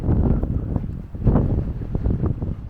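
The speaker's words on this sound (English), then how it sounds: "the very windy valley at the moment" Wind gusts blow through a valley near Pistyll Rhaeadr waterfall in Wales, buffeting the microphone with loud, rumbling, uneven bursts.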